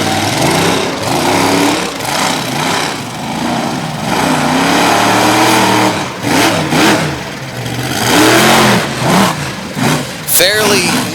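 A monster truck engine revs hard during a freestyle run at an outdoor event in Little Valley, New York, loud rising and falling roars close by, with an announcer talking over it throughout.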